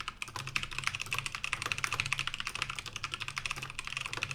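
Rapid, steady typing on a computer keyboard, dense clicking keystrokes heard alone and fairly close, as picked up by an off-camera streaming microphone.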